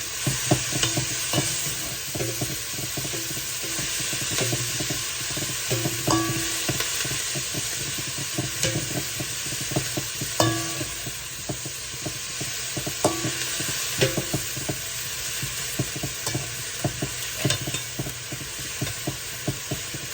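Chana dal dry roasting in a pan gives a continuous scraping, rattling stir with a faint sizzle as a spoon keeps the lentils moving, close and fairly loud, no voices.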